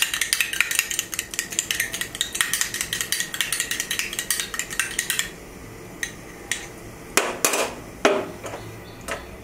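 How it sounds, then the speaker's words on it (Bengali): A fork or whisk beats egg in a bowl with a fast, even run of light metallic clicks, then slows to a few scattered louder taps against the bowl's rim, with no voices. "ডিমটা আমি একটু ফেটে নেব।"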